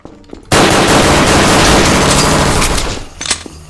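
Sustained rapid automatic gunfire from a weapon in the video game Garry's Mod, a loud, dense stream of shots lasting about two and a half seconds before tapering off.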